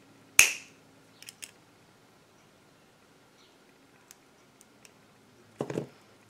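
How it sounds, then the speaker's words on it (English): A sharp, loud snap as a metal button piece is cut, followed by a few faint small clicks and a softer crunchy burst near the end. "And then I want to cut this little center piece off too."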